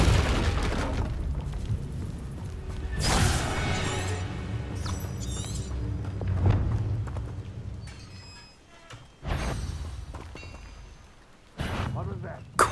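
A Confringo fire spell detonates in Hogwarts Legacy on PlayStation 5, giving several sharp, loud bursts spread across a busy stretch of game sounds and character voices.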